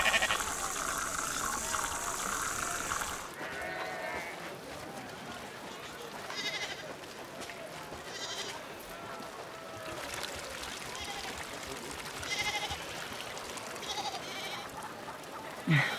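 A goat bleats several times while being milked by hand, the cries rising at intervals over a soft background of rustling and liquid sounds, with voices speaking faintly at times.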